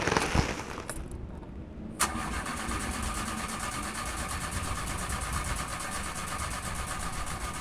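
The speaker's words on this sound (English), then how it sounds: "when I wanted to get the car started to crank up the AC, it just kept stuttering" A car engine cranks and sputters briefly, then catches and settles into a steady, rough idle that continues at an even level, close by.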